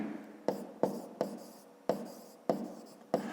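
A pen tapping and scratching in a notebook while a sum for a fifth-grade maths exercise is written down, six or so sharp strokes at regular intervals, each trailing into faint scratching.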